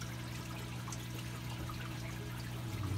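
Water streams steadily into a reef aquarium during a water change, making a continuous close trickle over a low hum of tank equipment.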